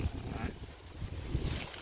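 Gusty wind buffets the microphone with low rumbling rushes, a bit of faint voice in the background.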